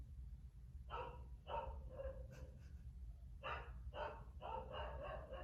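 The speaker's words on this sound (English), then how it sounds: "They've heard Cooper before in the background. Our dogs are in the background." A pet dog named Cooper barks in repeated short bursts from the background, two clusters of sharp barks separated by a brief quiet gap, moderately loud over a low room hum.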